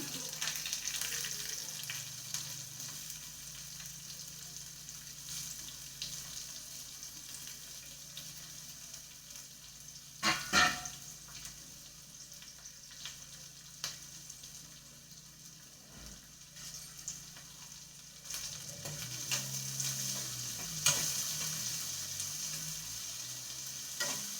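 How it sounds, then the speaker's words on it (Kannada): Crushed garlic and then onion frying in a little oil in a pan, a quiet steady sizzle with occasional clinks and stirring scrapes, a faint splash of water near the end. "ಜಜ್ಜಿರುವ ಬೆಳ್ಳುಳ್ಳಿ ಹಾಕೋತಾ ಇದ್ದೀನಿ ಆಮೇಲೆ ಈರುಳ್ಳಿ ಹಾಕೋತಾ ಇದ್ದೀನಿ"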